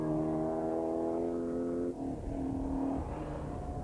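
Historic rally cars, Minis and a Tarmac-racing Avenger, roar past on a 1997 Manx International Historic Rally stage, a sustained loud engine drone that shifts pitch midway as one car passes and another follows.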